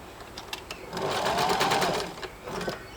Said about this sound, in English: I'm lowering the needle and turning it as I go, because obviously this ribbon has got zero flexibility, and I'm sewing onto a stretch knit.